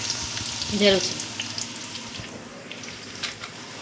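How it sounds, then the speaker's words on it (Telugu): Water bubbling in a large pot on a gas stove for chicken biryani, with a loud sizzling, churning texture and a brief clink of a vessel near the start, steady and close. "ఇక్కడైతే వాటర్ అయితే మసులుతున్నాయి."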